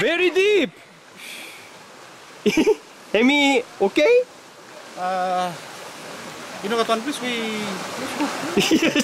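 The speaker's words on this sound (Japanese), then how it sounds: "この川はバンクモ川2日前に降った大雨の影響で水量が増し車が通ることができなくなってしまった" The Bankumo River on Vanuatu, swollen by heavy rain two days earlier and too deep for cars, rushes with a steady broadband wash of flowing water beneath frequent close talking voices.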